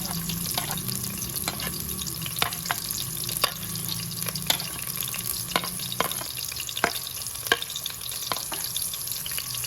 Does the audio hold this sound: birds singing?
no